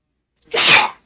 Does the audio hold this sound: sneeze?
yes